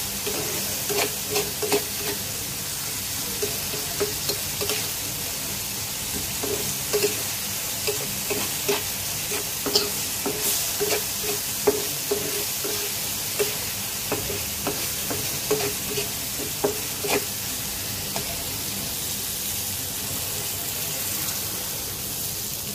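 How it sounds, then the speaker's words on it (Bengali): Masala frying and being stirred in a pan for a tengra fish curry, a steady sizzle with repeated spoon scrapes and clinks spread through the whole stretch, close and moderately loud with no talking. "ভাজা ভাজা হয়ে আসছে আমার মশলাটা।"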